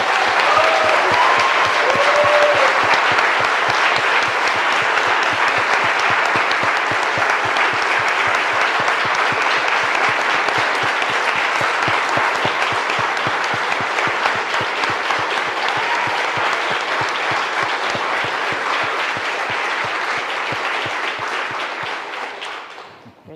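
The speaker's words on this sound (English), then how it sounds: "Let's applaud these amazing young people." A worship congregation claps for young members in a long, steady round of applause. It holds at an even level and then fades out at the end.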